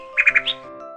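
A sparrow chirps in a quick run of three bright, close chirps and then one higher note, set against a faint steady background tone.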